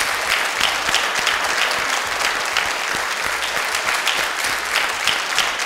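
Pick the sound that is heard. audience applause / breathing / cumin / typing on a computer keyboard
audience applause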